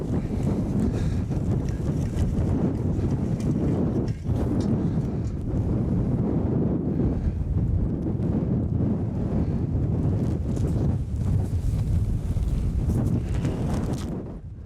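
Strong wind gusts across a microphone outdoors on a dirt-and-rock coyote and fox trapline. Loud, continuous low rumbling buffets with a few brief dips, close and unbroken, with no talk.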